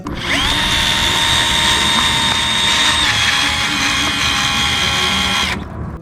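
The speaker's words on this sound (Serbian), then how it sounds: "Bušim rupu na krompiru koja je približno promera kao što je reznica." A power drill bores a hole into a potato, a steady loud high-pitched whine held for about five seconds with a slight pitch drop midway before cutting off.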